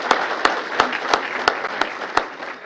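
An audience at a mayor's employee recognition awards applauds the award committee members: dense, steady clapping with a few loud individual claps standing out at regular intervals, fairly close and continuous throughout.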